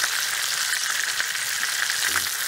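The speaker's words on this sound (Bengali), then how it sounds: "মাংসটা ভালো সুন্দর ভাজা হয়েছে" Meat frying at an outdoor barbecue gives off a loud, dense, unbroken sizzle close up, with light stirring movement and no voices.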